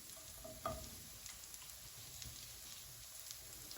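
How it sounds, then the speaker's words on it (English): Mushrooms and tenderstem broccoli hit a hot pan for a Chinese-style stir-fry, giving a sharp sizzle burst near the start that settles into a steady, soft crackling fry with scattered pops throughout. "next I'm going to pop my vegetables in. Right, my mushrooms and my tender stem broccoli."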